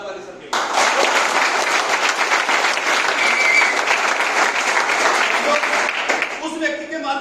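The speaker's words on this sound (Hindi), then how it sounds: "जोरदार ताली सर के लिए।" An audience at a motivational commando-training seminar breaks into loud, sustained applause, a dense wash of clapping lasting several seconds before tapering off.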